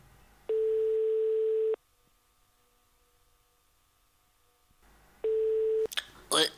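A French telephone ringback tone sounds as two long, steady, moderately loud beeps separated by a long silence, followed by brief clicks and rustling noise as the call connects.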